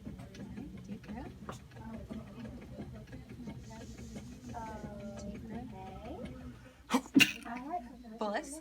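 A sneeze bursts out sharply near the end of a quiet physical exam, following several seconds of low murmured talk and breathing close to the listener.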